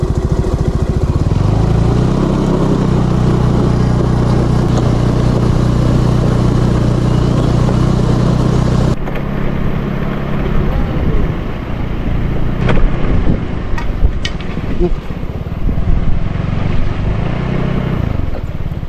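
A motorcycle carrying a paralyzed passenger rides along a road, a steady engine drone for the first half, then quieter road and engine noise with intermittent rattles and clicks.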